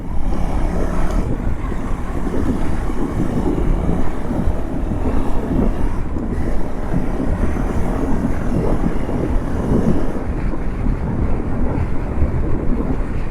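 KTM Adventure 390 S motorcycle cruising steadily at around 75–80 km/h on a new, running-in engine, a continuous loud engine drone mixed with heavy wind rush throughout, with no talking.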